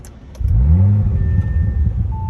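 2021 Audi RS5 with its exhaust valves closed starts up close by: a short starter whir, then a rising engine flare that settles into a smooth, moderately loud idle.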